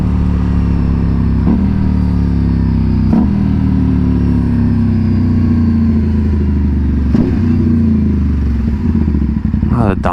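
A loud TVS Apache RS457 motorcycle engine, tuned with an SC-Project S1 exhaust, runs steadily, its pitch dropping in steps as it downshifts, with a few sharp clunks along the way.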